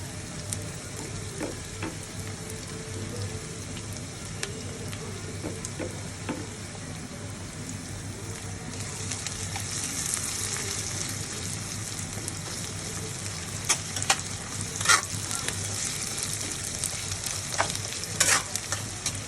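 Garam masala sizzles in hot oil with softened onions in a pan, a steady crackling fry that brightens midway, broken by scattered spoon scrapes and clinks against the metal.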